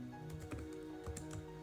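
Fingers tap a computer keyboard while configuring a Cisco router, making a quick, irregular run of close, crisp key clicks with no voices.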